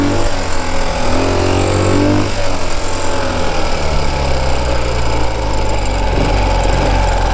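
A Ural Gear Up 2WD sidecar motorcycle engine drones steadily while riding, a loud, continuous low rumble with a slight rise in pitch partway through, and no talking.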